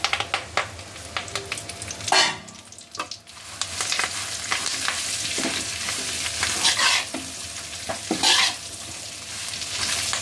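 Curry leaves frying in hot oil alongside cumin, garlic and tamarind, giving a steady crackling sizzle with occasional spoon scrapes and a brief quieter moment early on.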